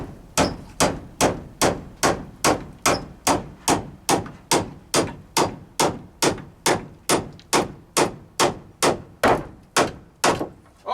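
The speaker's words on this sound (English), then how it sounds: "That's what I call nailing." A hammer drives a used nail into a wooden chicken coop, about two dozen sharp, ringing strikes at a steady, even pace, close and loud.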